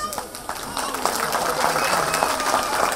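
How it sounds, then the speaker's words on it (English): An audience at a school annual day celebration breaks into steady applause and clapping, a dense, even patter that swells slightly after the first second, with voices faintly audible underneath. "A lot of applause and clapping."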